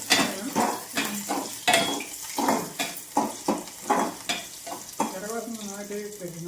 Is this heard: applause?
no